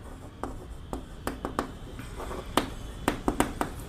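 Hand writing out a quadratic equation during a maths lesson, quiet scratchy pen or chalk strokes with sharp little taps on the surface, sparse at first and then quicker, close by, with no speech.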